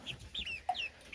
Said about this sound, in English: So we'll let the chickens pick around